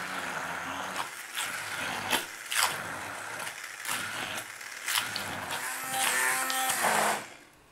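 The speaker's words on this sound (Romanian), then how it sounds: "cu ajutorul unui mixer vertical, voi face pastă toată această compoziție pentru a obține pateul" A handheld immersion blender whirs through a thick homemade chicken liver pâté mixture in repeated bursts, pitch rising and dipping as it works, fairly close and steady.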